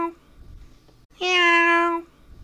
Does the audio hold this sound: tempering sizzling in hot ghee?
no